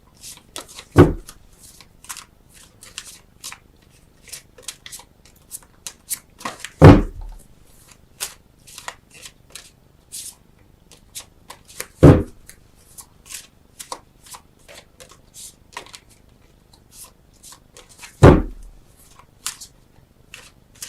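Tarot cards are shuffled by hand in bursts of soft riffling and flicking, with four sharp taps of the deck squared against a surface spaced several seconds apart, close and clear with no talk.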